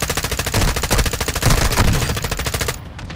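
Loud automatic gunfire in a video game, a fast, steady machine-gun rhythm of evenly spaced shots that runs continuously before easing off at the end.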